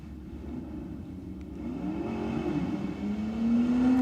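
A Morris and a 55 Chev drag race at Sydney Dragway, engines droning at the line, then revving harder and climbing in pitch as they accelerate away, loud and close with no talk.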